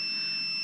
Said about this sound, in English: when there's a circuit it makes a beep